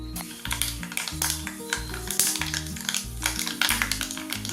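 Fenugreek and mustard seeds splutter and crackle in hot coconut oil for Kerala ripe banana pulissery, a busy close popping heard over steady background music.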